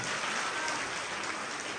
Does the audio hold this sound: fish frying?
no